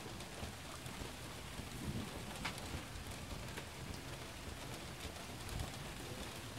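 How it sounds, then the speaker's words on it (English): An early-morning thunderstorm at night: steady, dense rain falls throughout, with low rumbles of thunder rolling beneath it, and no voices. "Got a spooky, spooky storm going on right now."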